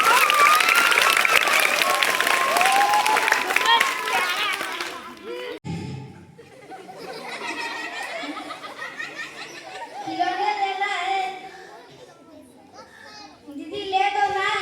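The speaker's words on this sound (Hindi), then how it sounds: "इसके लिए एक बार जोरदार ताली हो जाए" Audience clapping for a puppet show, with a loud, dense burst of applause and children's voices for the first five seconds, then giving way to children talking and playing.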